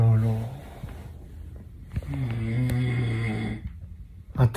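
Someone snores loudly and close by, two long rasping breaths separated by a short pause, with faint rustling between them.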